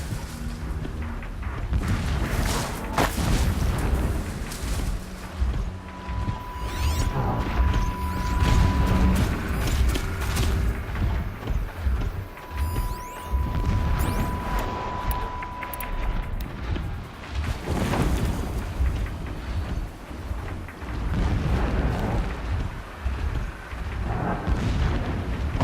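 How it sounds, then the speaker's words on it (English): Distant explosions rumble through the game Horizon Forbidden West, arriving as repeated low booms over a steady windy roar, with a faint sustained tone appearing twice. "explosions in the distance"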